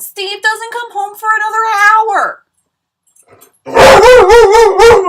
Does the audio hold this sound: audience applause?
no